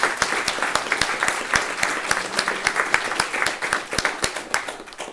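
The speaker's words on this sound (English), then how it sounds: "I'd like to give a round of applause to Susan and Pat." Audience at an apprenticeship graduation ceremony claps steadily, a dense even round of applause carrying on for several seconds without talk.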